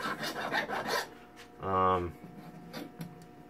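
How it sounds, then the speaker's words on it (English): A hand file rasps raw, jagged metal on a steel puppet armature plate in a few quick close strokes, with a person talking and a brief hum in between. "file the raw metal that's now sticking out jaggedly from the plate"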